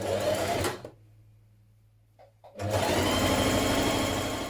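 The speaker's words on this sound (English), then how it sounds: "Now stitch your darts in your bodice back pieces in the same way." A home sewing machine stitches darts in dress bodice back pieces, running in a steady fast whir, pausing briefly with a couple of small clicks, then resuming at full speed; no one speaks.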